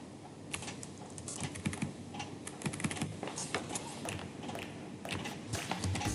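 Fingers type on a computer keyboard in quick, uneven bursts of close, light clicking, carrying on steadily with no pauses over a faint room hiss.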